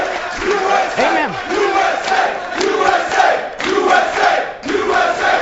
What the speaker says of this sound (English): I love this crowd. They applaud everything.